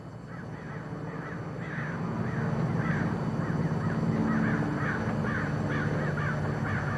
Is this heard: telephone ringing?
no